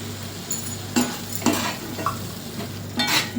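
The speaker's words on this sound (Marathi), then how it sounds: "तर आपण परत थोडंसं पाणी घालून घेऊया" Frying masala for matar kheema sizzles steadily in a pan, with several sharp spatula stirs and scrapes breaking through the close, continuous hiss.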